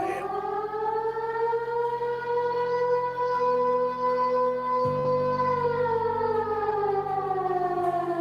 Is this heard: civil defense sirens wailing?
yes